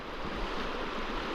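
Boat crossing a river in the dark during a northern British Columbia moose hunt, a steady close wash of water and motor-like rushing noise with wind, constant and unbroken.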